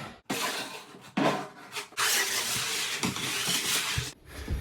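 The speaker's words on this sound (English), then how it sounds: "take your drywall knife, in my case, and just spread this out" A drywall knife spreads joint compound over a floor in long, continuous wet scraping strokes that are close and fairly loud, with a few brief breaks.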